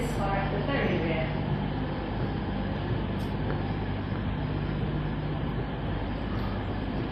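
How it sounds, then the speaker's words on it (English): East Midlands Trains train at a platform in Leicester station, a continuous low rumble and hum of the train with station ambience throughout, alongside a platform announcement voice. "Also coming in on platform 3 is 1026 service, London Pancras."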